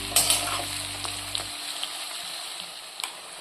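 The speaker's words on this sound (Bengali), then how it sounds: "দেখুন আলুর সাথে পেঁয়াজটা ভাজা ভাজা হচ্ছে" Onion and potato frying in a pan give a soft, steady sizzle with faint crackles, a low hum cutting out early and a few light clinks, fairly quiet throughout.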